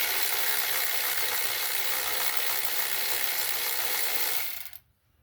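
A ratchet loosens a 14 mm adjusting nut on a Honda HS55-70-80 series snowblower, a rapid, steady clicking that runs close and continuous before cutting off near the end.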